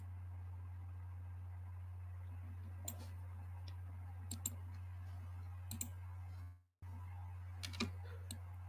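Mouse clicks from editing a custom banner image with transform controls, scattered single and double clicks at irregular intervals over a steady low hum, close and fairly quiet, with a brief dropout near the end.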